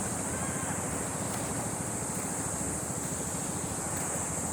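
Steady wash of ocean surf at a provincial beach, a continuous roar mixed with wind rumbling against the microphone, unbroken and fairly loud, with no voices.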